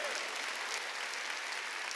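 Congregation clapping together during a Wednesday church worship service, a dense, steady wash of many hands that holds at an even level for the whole two seconds with no break.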